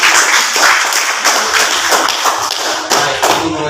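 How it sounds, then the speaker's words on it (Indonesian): A classroom gives applause, a dense run of sharp overlapping claps lasting several seconds, loud and close with no talk over it. "Kita kasih aplaus."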